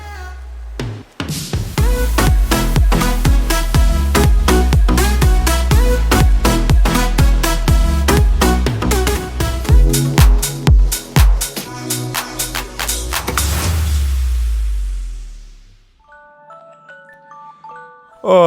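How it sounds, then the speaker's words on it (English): A loud, rhythmic electronic alarm tune with punchy beats plays, then fades away, followed by a few faint, high beeping tones. "That's the sound of my alarm clock"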